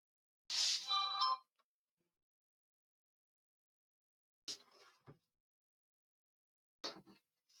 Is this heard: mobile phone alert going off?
yes